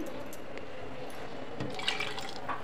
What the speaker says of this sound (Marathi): कुकरच्या भांड्यामध्ये पाणी घालत आहे.